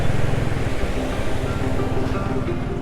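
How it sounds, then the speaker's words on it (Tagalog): Strong floodwater rushes during a rainy ride in Vietnam, a loud, dense, continuous roar of churning water heard close with no pauses. "Yun o, lakas ng baha mga tol o."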